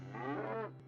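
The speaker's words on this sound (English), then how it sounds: "Go to the market today and sell our cow, Bess." A cow named in the children's tale Jack and the Beanstalk gives one clear, near moo lasting about a second, alone and without any talking.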